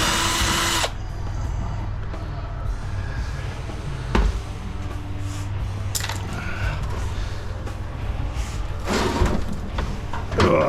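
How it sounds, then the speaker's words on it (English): A drill backs screws out of an old 1980s microwave, with a steady whirring drone that runs through most of the stretch, broken by short bursts, knocks and clatters of loosened parts nearby. "we'll just take a bunch of these screws out"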